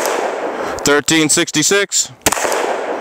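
A Glock 20 pistol in 10mm firing a few sharp, loud shots at an outdoor range, with someone speaking briefly between them.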